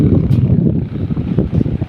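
Strong wind gusts buffet the microphone near a tarpaulin, making a loud, low, rumbling roar. A few sharp flaps and knocks break through the steady blast.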